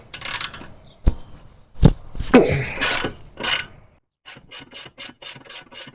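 A wrench works a bolt loose on a Honda Accord transmission, with close bursts of ratcheting and grinding clicks, then a quick run of short rhythmic ratchet strokes after a brief pause.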